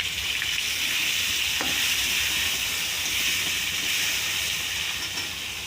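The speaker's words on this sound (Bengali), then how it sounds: "এবারে পটলগুলো ভেজে নেব।" Pointed gourd pieces fry in hot oil, producing a loud, dense and continuous sizzle with a steamy hiss that barely changes across the whole stretch.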